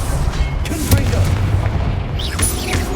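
A Confringo blasting spell bursts in Hogwarts Legacy, heavy low booms and crackling blasts in a noisy combat scene, with voices in the mix.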